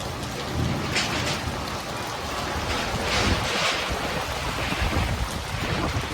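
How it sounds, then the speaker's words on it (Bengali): Strong wind buffets a phone microphone in a constant, rough roar with gusty surges throughout, under a thundery sky. "হাওয়া আমার মোবাইলের ওপরে, ক্যামেরার উপরে হাওয়া মারছে।"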